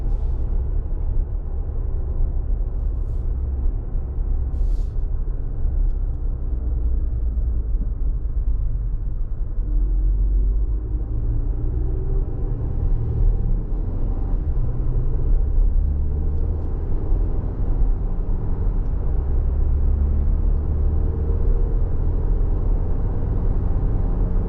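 A 2025 Toyota Grand Highlander XLE AWD SUV drives on the road with a steady, loud, low rumble of engine and road noise that runs unbroken throughout, and no one speaks.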